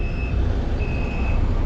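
An HRTC bus on the Manali–Delhi route pulls out while sounding its reversing alarm, two long, steady beeps heard over a loud, rumbling idling engine at a bus stop.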